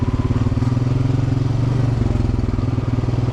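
A motorcycle engine chugs steadily at low speed while riding a grown-over local trail on a ridge, loud and close with a rough, pulsing idle-like rhythm and no speech.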